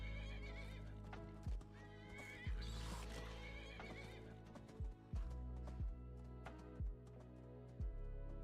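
A horse in Skyrim whinnies while hooves strike in a steady clip-clop, with sharp, evenly spaced thuds about once a second over a sustained neigh and a faint musical backdrop.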